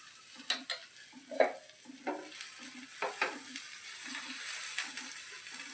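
A sandwich fries in butter in a pan, giving a soft steady sizzle with several light clicks of a spatula or utensil against the pan, quiet and close.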